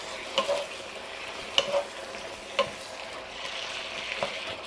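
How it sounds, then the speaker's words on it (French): Spicy Thai chicken with green beans and bell pepper stirred in a hot pan. Steady soft sizzle throughout, with four evenly spaced clacks of the utensil against the pan and no talking. "Puis on vient tout de suite rajouter nos haricots et le poivron. Là, on vient encore brasser."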